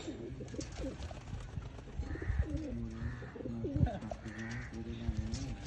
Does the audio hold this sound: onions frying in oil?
no